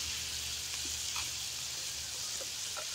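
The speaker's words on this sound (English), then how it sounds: "Let it saute a little bit longer." Snow peas and asparagus sautéing in a pan give a steady, soft sizzle and hiss throughout, with a few faint ticks and pops over the continuous frying noise.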